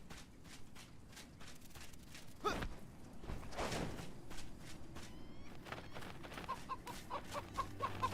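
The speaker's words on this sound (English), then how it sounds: "Big chickens." Large chickens clucking in the survival video game Enshrouded, a few short clucks and a sighing call scattered over a busy, steady game soundscape with light footsteps.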